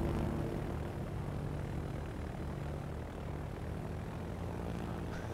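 Propeller engines of torpedo bomber aircraft in World of Warships drone steadily throughout, a continuous low hum at moderate level with no talk.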